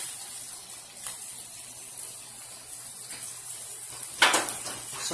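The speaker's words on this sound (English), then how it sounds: "Stir fry natin yung meat." Pork sizzles steadily as it is stir-fried in a pan, a close hiss punctuated by a few utensil scrapes and one sharper clatter near the end, with no talking.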